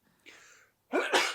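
A short human sneeze follows a faint intake of breath, ending in a loud, explosive burst.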